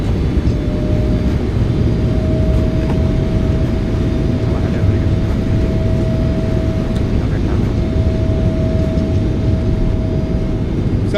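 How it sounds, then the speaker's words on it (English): Thrust reversers roar on a PMDG 777F freighter landing in a crosswind at Chicago in a flight simulator, a loud, steady, unbroken engine rush with a faint tonal whine held throughout. "Nose down gently, reversers out into the wind, fight that crosswind."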